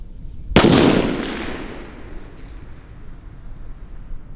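A long-range rifle shot at a shooting tournament: one sharp, loud report followed by a fading rumbling echo, with no talk.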